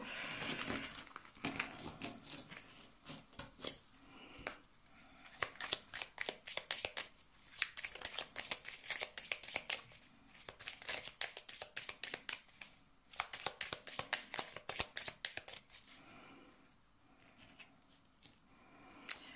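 Tarot cards are shuffled close by in a reading, with repeated bursts of crisp riffling and flicking, irregular and fairly quiet, filling the whole stretch with brief pauses between handfuls.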